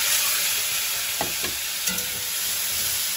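Pointed gourd fries in oil in a pan, a steady close sizzle with a couple of brief scraping stirs midway, with no voices.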